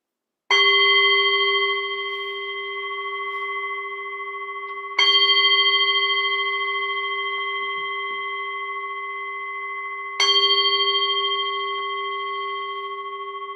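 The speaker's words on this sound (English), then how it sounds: "So let me ring the bell," Meditation bell struck three times at slow, even intervals, each strike a clear, bright ring that sustains with a long, shimmering decay, heard alone in an otherwise silent room.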